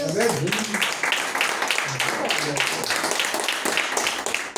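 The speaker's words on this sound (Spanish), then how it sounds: "¿Alguien puede darle un aplauso?" A church congregation at an evangelical service applauds with steady, dense clapping from many people that continues throughout. A few voices call out under and between the claps.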